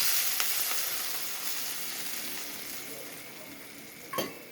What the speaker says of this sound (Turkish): kızarttığım yağımın içine bir çay kaşığı kadar kırmızı toz biber ekliyorum